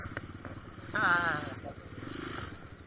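A motorcycle engine rises briefly and passes nearby, its revving tone cutting through ongoing conversation and background noise.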